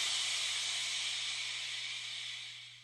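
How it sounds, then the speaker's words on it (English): A household clothes iron releases steam in a steady, close hiss that fades slightly toward the end, over a faint low electrical hum. "There's literally the steam on our iron in the house."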